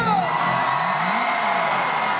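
A large concert crowd at a 2024 show in Milladoiro, Galicia yells together in a loud, sustained roar that holds steady throughout, dense and unbroken like an open-air audience shouting on cue.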